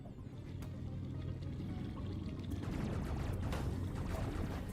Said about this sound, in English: The way that Samus moves slower in the water. Yeah, and the audio change too.